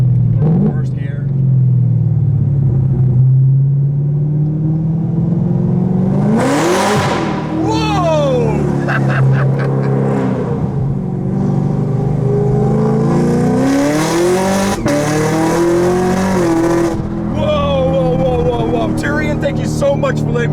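A 2017 Camaro ZL1 accelerating hard in first gear, its engine rumbling low then surging into a loud rising rev with a sharp climb and roar, heard from inside the car; a person talks over it.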